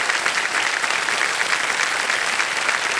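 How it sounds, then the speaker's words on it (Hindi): A television quiz-show studio audience claps continuously and evenly, a full, close wash of hands welcoming a contestant and her parents, with no talk over it. "तालियां बज जाए इनके लिए।"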